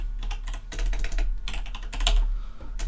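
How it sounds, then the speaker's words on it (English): Rapid keystrokes on a computer keyboard clatter in close, uneven bursts with short pauses between words, with no voice over them. "I can type in test value."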